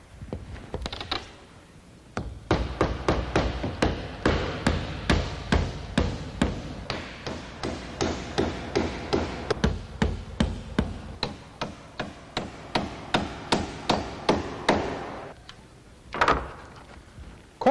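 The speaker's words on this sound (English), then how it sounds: "The nails we're using are 8-penny double-dip galvanized nails." Steady hammer blows drive 8-penny double-dip galvanized nails into cedar reverse board and batten siding, a long run of sharp, evenly spaced knocks close by after a few opening strikes.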